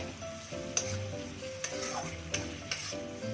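Ginger garlic paste fries in a pan with a soft continuous sizzle, punctuated by several sharp clinks and stirring scrapes as tomatoes go in; fairly quiet and close, no talking.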